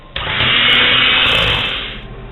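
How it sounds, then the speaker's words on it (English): A loud, steady whirring motor drone starts abruptly and runs for about two seconds, then winds down, as a blender mixes flour and milk into a batter. "I'm going to take my blender and I'm going to blend this"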